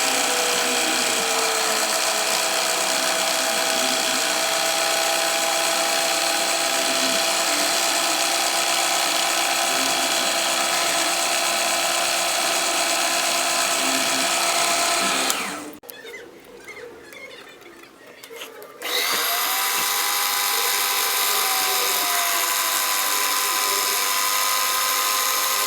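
A small drill spins at high pitch while boring holes of 0.6, 0.8 and 0.9 millimeters into a printed circuit board, a loud steady whine that drops out briefly before resuming.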